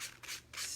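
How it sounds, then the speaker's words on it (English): Fine grit sandpaper lightly scuffs the painted surface of a muslin fabric pumpkin in three close, soft strokes with brief pauses between them, with no talking. "it's just a light scuffing and sanding over the whole pumpkin"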